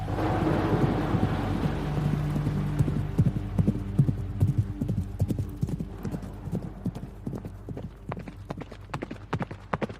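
Horse hooves clip-clop and trample in a rapid, uneven rhythm, loud and close, over a low rumble like rain or thunder.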